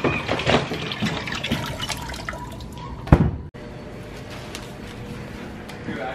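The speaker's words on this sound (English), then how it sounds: "right now, he's just washing the shoes" Shoes being washed under running water: a continuous splashing, trickling stream with intermittent drips and a brief louder gush near the end, close and steady throughout.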